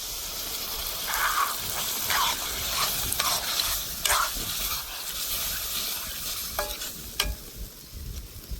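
Onions frying in a pan for a country-style onion and potato curry, a continuous bright sizzle with repeated stirring scrapes and a few sharp metallic taps near the end; no speech.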